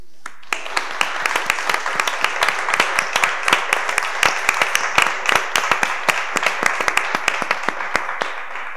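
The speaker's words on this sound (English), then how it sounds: "y'all deserve a round of applause for all y'all do for us" Town hall audience claps for city staff, a moderate crowd whose distinct, fairly loud individual claps ring out in a brisk, uneven rhythm for nearly nine seconds.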